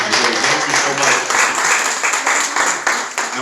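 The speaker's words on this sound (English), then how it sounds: "Let's give our hostesses a hand clap also for serving." An audience at a holiday brunch applauds the hostesses, a dense burst of hand clapping from a room full of people, loud and sustained, with some voices mixed in.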